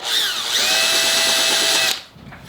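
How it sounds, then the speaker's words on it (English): A handheld electric drill runs at high speed as it bores into the wooden stock of a Mossberg 185 shotgun during repair, a loud, steady whine for about two seconds that then winds down and stops. "So we're just going to use a drill motor here."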